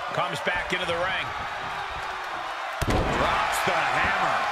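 A single sharp body-slam impact in the wrestling game WWE 2K22, a quick thud in the ring heard under continuous commentary.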